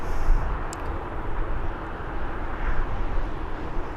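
A Jet2.com airliner taxiing toward the runway at Birmingham airport, a steady broadband engine roar with low rumble, continuous and fairly loud from a distance.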